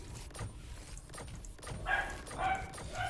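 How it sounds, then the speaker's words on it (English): A dog barks a few times in quick, sharp yips, fairly faint and in the background of a quiet room. "Don't mind my dog there"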